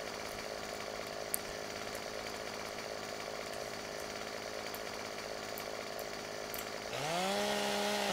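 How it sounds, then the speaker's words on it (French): Chainsaw cutting down a tree in the video game Farming Simulator 15, a steady, loud droning engine whine running throughout, then the pitch rising and the sound swelling near the end. "On va essayer de se couper un arbre."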